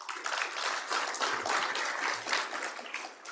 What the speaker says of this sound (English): a warm round of applause again to Mr.